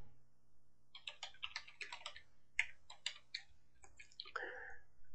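A computer keyboard is being typed on in faint, close clicks, a run of uneven keystrokes tapping out an address with short pauses between bursts.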